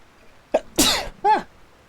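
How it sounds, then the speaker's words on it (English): A person sneezes three times in quick succession, close and sharp, with a short pause before the last one. "I'm gonna have a sneezing fit."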